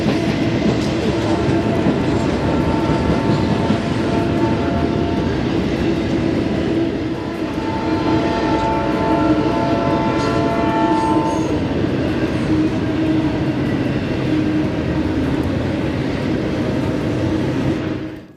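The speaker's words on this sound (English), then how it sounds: "We got like 5 trains in the same place." Several trains rumble and clatter past continuously at a busy Midwest rail spot, with a horn-like tonal blare sounding midway, loud and close throughout with no talking.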